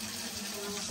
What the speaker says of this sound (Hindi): ये इधर टूटी से क्यों भर, बिलाल भी पानी एक्वा पीना।